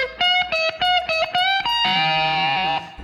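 An electric guitar plays a quick run of repeated picked notes, then a sustained chord with notes bent slightly sharp to imitate a slide, close and distorted with no talk.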